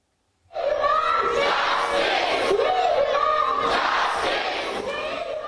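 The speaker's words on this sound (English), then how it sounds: "Huge crowds continue to fill the streets in Calcutta." A large crowd roars and chants loudly in unison, voices rising and falling in waves that fill the space, sustained and energetic throughout.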